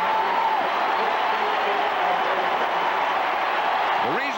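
Distant, steady stadium crowd noise and applause at a 1983 Thanksgiving NFL game between the St. Louis Cardinals and Dallas Cowboys, a continuous broad roar running under the whole stretch.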